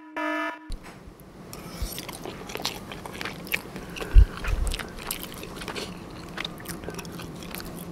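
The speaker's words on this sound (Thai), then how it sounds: "ยิ่งเคี้ยวยิ่งหอมอ่ะ" Close chewing of salmon cooked in a waffle iron, with soft moist bites and a few brief louder crunches scattered across the clip, and no talk.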